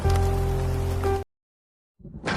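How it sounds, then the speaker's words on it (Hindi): Rain in a Hindi cartoon story about a lazy crow: a dense, hissing downpour fills the first half, cuts to sudden silence, then a softer patter of rain returns near the end. "तब अचानक से बारिश होने लगती है"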